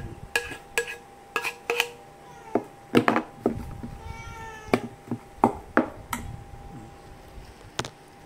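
Several cats meow repeatedly at feeding time, short close calls scattered over clinking dish and chopping sounds, with no talking.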